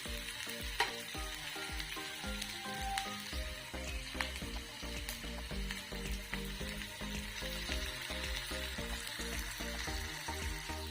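Onion sizzles steadily in hot oil while a utensil stirs it, scraping and clinking now and then. The frying is close and continuous, and nobody speaks.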